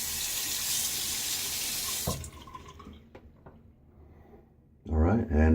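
Tap water runs steadily into a bathroom sink for rinsing during a wet shave, then cuts off, leaving small clinks and drips before a voice comes in at the end.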